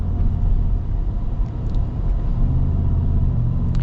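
The engine of a 2025 Shelby F-150 off-road truck rumbles in a steady, deep, smooth drone, loud and close, with no voices over it.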